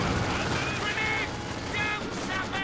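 Vickers machine gun in the Company of Heroes 2 battle game rattling through dense, continuous distant fire, layered with other battle noise and a steady wash of explosions and bursts.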